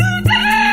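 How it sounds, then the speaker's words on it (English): A rooster crows in a short, loud, close call that breaks briefly and then continues, heard alone. "Rooster,"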